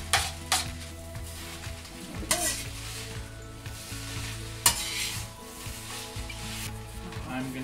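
Eggs being stirred into fried rice in a hot pan, with a steady sizzle and sharp scrapes and clacks of the utensil against the pan at irregular intervals, close and fairly loud.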